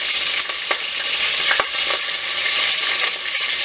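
Breasted dove meat frying in hot oil in a pan, a steady loud sizzle and crackle with a few brief clinks and stirring noises, no talking.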